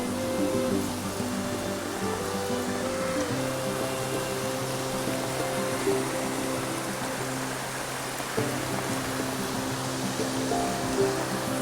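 A steady, broad rush of rain-swollen water flowing under a trail bridge fills the scene, constant and fairly loud, with a low hum running beneath it and no voices.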